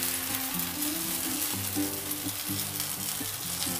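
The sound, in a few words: semolina pumpkin pancake batter frying in pan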